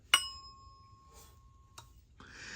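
A Simplex 2902-9207 fire alarm chime strikes once, a clear bright metallic ding that rings out and slowly decays, followed by faint clicks and a soft rising hiss, heard close and alone.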